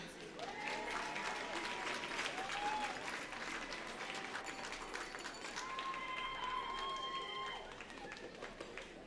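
An audience at a school district employee awards ceremony applauds, a dense, steady clapping from many hands that carries on for several seconds with a voice over it.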